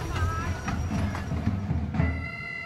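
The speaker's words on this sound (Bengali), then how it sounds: "আমরা এখন টয় ট্রেনে বসে আছি" Toy train ride at Nicco Park amusement park: a steady rumbling clatter of the moving carriages with faint rhythmic clicks and tonal squeaks, voices talking over it.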